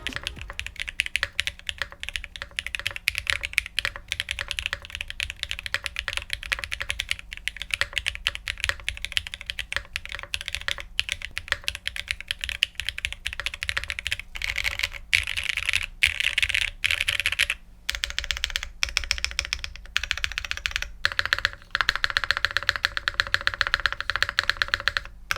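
Steady typing on a Mode Tempo mechanical keyboard with plate foam only, dense fast keystrokes close up in continuous bursts, with occasional brief pauses and no talking.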